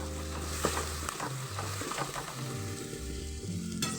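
A tempering of garlic, green chilli and cumin sizzles in a pan while being stirred, a continuous close crackle and hiss with scraping stir sounds over a low hum.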